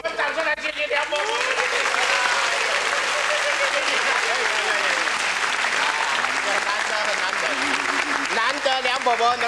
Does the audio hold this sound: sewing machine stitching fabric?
no